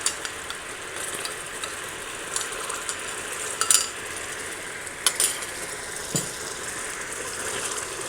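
Massaman curry paste is stirred into a sizzling pan, a steady close fry hiss broken by occasional scraping clicks of the utensil, with no one talking.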